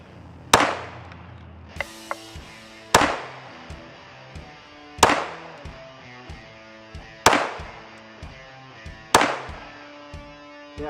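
Handgun shots fired with home reloaded ammunition at a shooting range, five sharp loud cracks spaced roughly two seconds apart, each ringing out with a short echoing decay, plus a few light metallic clicks between them.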